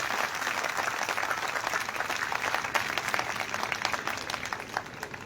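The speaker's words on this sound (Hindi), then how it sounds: "हम सब लोग आपके माता पिता के लिए, आपके परिवारजनों के लिए जोरदार तालियां बजाएं उनके लिए" Applause for parents at a convocation ceremony at a girls' college in Dhand Dadwana, India: a continuous, fairly loud wash of many hands clapping together from a large seated crowd.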